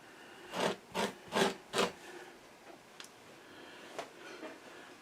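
Fleshing a wild fur tail hide with a scraper, four firm rasping strokes in quick succession, then quieter occasional scrapes and taps, close by.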